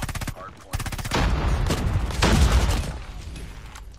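Rapid bursts of BP50 assault rifle fire in a ranked video game match, loud and close, with dense rattling volleys and short pauses between bursts, plus crackling impacts and game effects.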